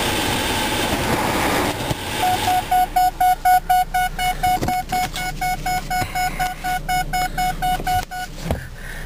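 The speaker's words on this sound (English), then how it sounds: "That noise is just telling you to buckle your seatbelt." Seatbelt reminder chime in a 2001 Ford Focus SE station wagon, a rapid series of short repeated electronic beeps over a low engine rumble in the cabin.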